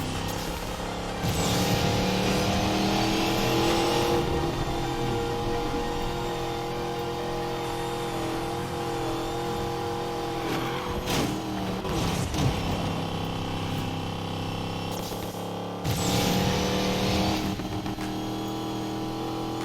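Car engine in the video game Need for Speed Payback, a steady loud drone with harmonic engine tones that rise and swell, pausing briefly before surging again, with no talk over it.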